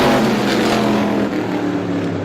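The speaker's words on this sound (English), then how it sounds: "Heat race number 2 for the 350 Super Modified is underway" 350 Super Modified race cars roar through a heat race at Star Speedway, a loud, continuous engine drone with a rising, revving pitch as the pack runs close by.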